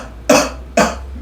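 A singer voices two short, sharp glottal-attack onsets on an "oh" vowel, each starting with an abrupt throat-clearing click, close and loud, with a brief pause between them.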